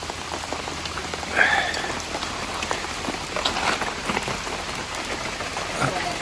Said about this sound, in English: it's absolutely teeming down with rain